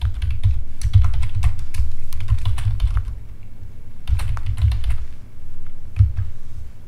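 Keys clatter on a computer keyboard as a SQL select statement is typed, two close bursts of quick, uneven taps separated by a brief pause, with no speech.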